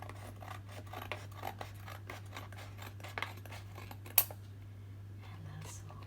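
Scissors snip repeatedly at craft material for a medieval costume piece, a string of close, quiet crisp cuts with a sharper clack near the middle, followed by soft rustling.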